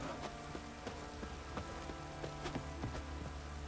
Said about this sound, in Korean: 비가 오네.